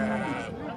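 A sheep bleats once, a short wavering cry partly under a voice, amid background noise at a Thursday livestock market in Kakaydi.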